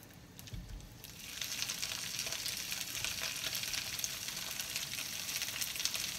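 Cauliflower pieces spread into hot olive oil in a pan, setting off a sizzle that swells from quiet to a steady, dense crackling hiss held close and even to the end.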